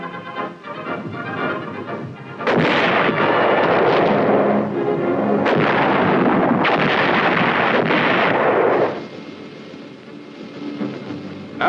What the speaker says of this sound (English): the 175s reliably deliver shells with pinpoint accuracy on targets over 10 miles away